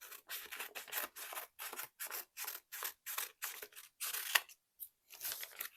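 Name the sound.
scissors cutting while kitting up a diamond art kit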